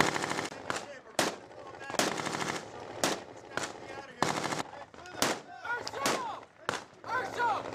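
Bursts of automatic gunfire in a close firefight with Marines in Sangin, Afghanistan, firing at a two-story building; loud, rapid volleys repeat throughout, with voices shouting in between.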